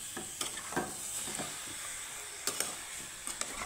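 Mango pieces fry in a covered pan, a soft, steady sizzle and hiss with occasional light stirring clicks, quiet and close.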